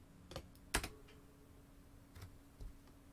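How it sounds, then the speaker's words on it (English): A few sparse, sharp clicks of keys being struck on a computer keyboard, close and quiet, with a faint steady hum underneath. "Now you get to hear my very loud keyboard."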